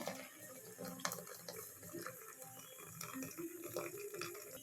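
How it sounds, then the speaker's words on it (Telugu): Cooking water from pressure-cooked lentils poured into a bowl in a home kitchen: a close, steady splashing trickle with small clinks, continuous for several seconds and heard alone. "ఈ వాటర్ని అయితే గిన్నెలోకి అయితే తీసుకోవాలి"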